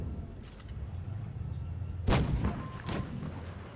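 Tank cannon fire in the World of Tanks Blitz game: two sharp, booming shots less than a second apart over a quiet mechanical background, the first one louder.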